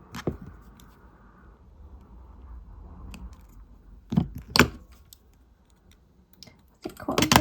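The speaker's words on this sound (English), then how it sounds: "So we'll cut the wire." A few crisp snips as jewellery wire is cut, soft clicks and handling noise at first, then two distinct cuts mid-clip and a cluster of sharp clicks at the end, close and fairly quiet.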